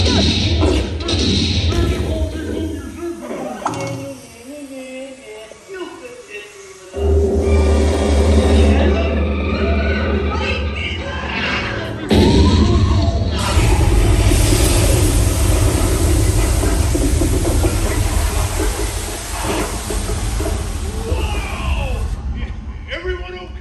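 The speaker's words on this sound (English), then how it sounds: "What an explosion!" Heavy booming explosion effects from a live stunt show at Hollywood Studios theme park, with a loud blast followed by a second sustained roar, over rumbling effects, crowd noise and amplified performers' voices.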